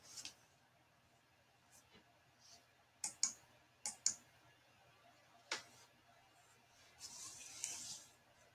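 Faint, quiet mouse clicks sound in a few short pairs and single taps while installing a WordPress plugin, with soft background noise between them.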